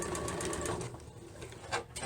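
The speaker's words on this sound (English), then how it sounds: "leave my needle down, lift my presser foot, pivot," Close and fairly quiet, a sewing machine stitches fabric for a face mask with a steady mechanical whir that pauses briefly, then restarts with light clicks.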